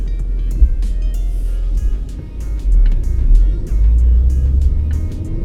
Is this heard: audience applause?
no